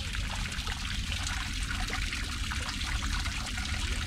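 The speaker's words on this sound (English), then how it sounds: "This shit is still draining water out." Water steadily trickles and pours out of a nearly sunk boat in a continuous splashing stream, close and fairly loud, with no talking.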